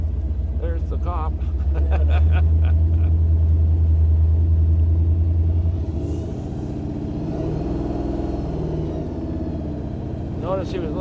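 A 1935 Ford coupe engine rumbling low and steady while driving, its throttle easing off midway, with people talking inside the car over the drone.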